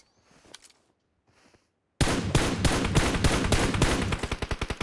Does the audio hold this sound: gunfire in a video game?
yes